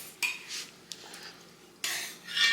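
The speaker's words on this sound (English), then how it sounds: "It's Mommy's pots and pans." Metal pots and pans clatter in a home kitchen in a few sharp bursts, a clang near the start and a louder rattling cluster near the end, with quieter gaps between.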